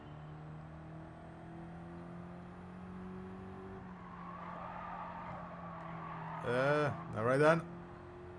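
Hard braking from a car in Gran Turismo during a licence test: a steady engine drone gives way to two short, loud bursts of tyre squeal near the end.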